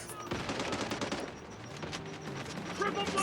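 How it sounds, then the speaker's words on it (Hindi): Rapid bursts of gunfire and booming explosions fill a Delta Force attack-and-defence match, dense overlapping cracks and blasts with a faint mechanical undertone, and no speech over them. "भाई, बम धमाके गिर रहे भाई।"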